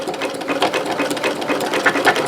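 Sewing machine backstitching a zigzag stitch, its needle chattering in a rapid, even rhythm up close, alone with no talk.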